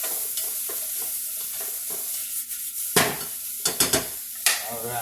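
Sliced peppers, red onion and mushrooms sizzle in a pan in a steady hiss, broken by several close, sharp scrapes and clatters as the vegetables are stirred.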